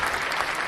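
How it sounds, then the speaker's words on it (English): Dense round of applause from many hands, steady and close, filling the whole short moment without pause. "I thought I could like stop the round of applause"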